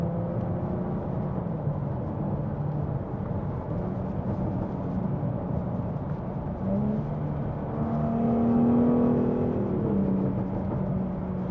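A 2014 Jaguar F-Type 3.0 V6 S automatic being driven gently in one gear: a steady, moderately loud engine drone and road roar fills the cabin throughout, with a slight rise in engine pitch near the end.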